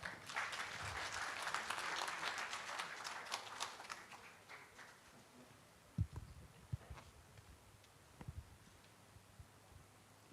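An audience applauds at an auto CNG stakeholders workshop, a moderate burst of many hands clapping that fades after about five seconds, leaving scattered thumps and faint room noise.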